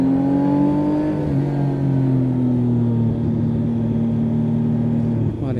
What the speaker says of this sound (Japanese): 3発のエンジンってこうヒルヒル言って感高いんですけど、高回転ですごい回すとのぶといんですよ逆に。